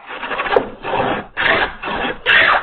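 A hand plane rough-planes a wooden tenon with five long, rasping strokes in an even rhythm, loud and close, with brief pauses between passes.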